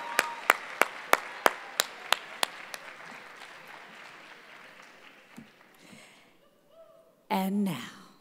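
Applause greets the top eight finalists returning to the stage at a regional poetry recitation semifinal: several sharp claps ring out first, then a dense, steady crowd clapping fades gradually, with a brief voice near the end.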